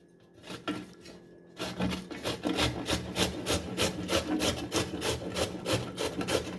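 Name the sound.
grating bottle gourd on a grater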